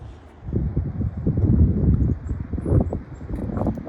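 Very strong wind gusts through trees with a loud, continuous low roar and buffeting rumble that swells and ebbs, close to the microphone.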